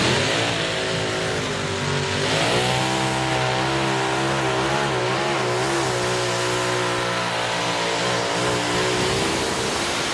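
A light modified pulling tractor with two Hemi engines in the nose, rated around 4,000 horsepower, roars continuously at a competition, loud and close, its pitch rising and wavering as the engine revs steadily throughout.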